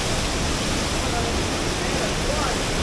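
Sanggawan Falls on Mt. Apo pours in a constant, dense rush of falling water, loud and unbroken across the whole moment.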